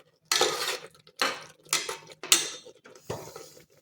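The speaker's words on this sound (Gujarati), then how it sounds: "આપણે હલવાને હલાવતા રહેવાનું છે" A spoon scrapes and clanks against a pot while carrot halwa is stirred with milk over a high flame, in four or five loud bursts of metallic scraping with brief pauses between.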